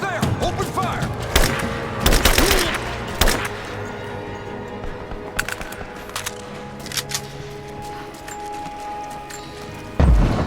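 Gunfire in Rise of the Tomb Raider: sharp shots and short bursts crack out irregularly over a steady ambient bed, with a final loud blast near the end and voices in the background.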